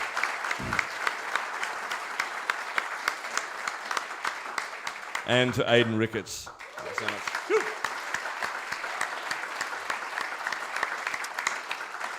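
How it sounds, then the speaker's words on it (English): An audience applauds guests on stage at a talk event on reclaiming democracy, steady sustained clapping from a crowd throughout, with someone speaking briefly over it midway. "Big round of applause."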